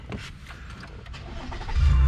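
A 2018 Toyota Highlander's engine starts near the end, a low rumble swelling loudly over the last quarter-second after quiet cabin ambience.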